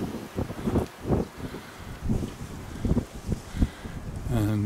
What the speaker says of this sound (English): Just catch the wind a bit though.